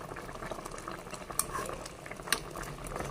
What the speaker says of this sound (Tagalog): hayaan lang muna natin siyang kumulo guys. Para lumambot.